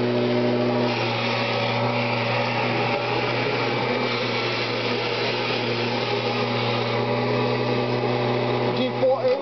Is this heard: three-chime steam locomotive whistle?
no